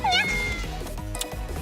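A cartoonish cat 'Nya' meow in a video game, one short high rising-falling mew up front, followed by busy game sound effects and a brief bright chime, close and loud.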